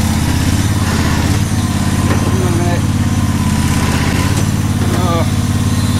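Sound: Husqvarna lawn mower engine running

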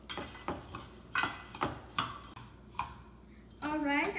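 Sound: coriander seeds frying in a pan

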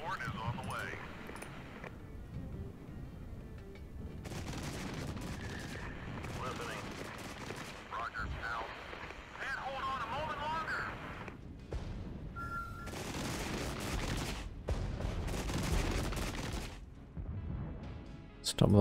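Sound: artillery strike and gunfire in the video game Regiments

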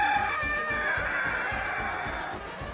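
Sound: Sicilian Buttercup chicken clucking and crowing

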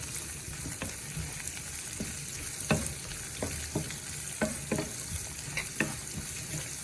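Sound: green chillies being stirred and fried in pan

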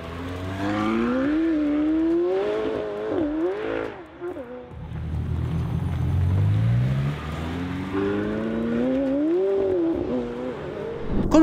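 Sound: McLaren 720S V8 sports car engine revving

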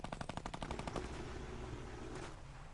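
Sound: gunfire in the Fortnite video game

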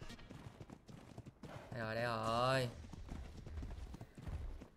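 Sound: horse hooves clip-clopping in Ark Genesis 2 video game

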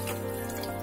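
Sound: water being poured into a pressure cooker

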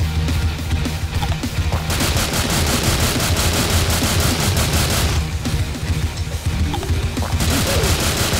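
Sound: gunfire with explosive ammunition in a zombie video game

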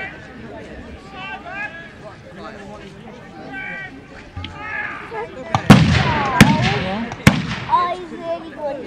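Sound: arquebus guns firing at historical reenactment

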